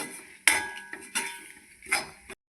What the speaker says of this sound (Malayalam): ബ്രൗൺ നിറാകുന്നവരെ ഇളക്കി മൂപ്പിച്ചെടുക്കാം.